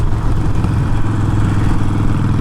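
Harley-Davidson Iron 1275 motorcycle engine rumbling steadily at close range, a loud, continuous low throb with a fast pulsing beat and no talk over it.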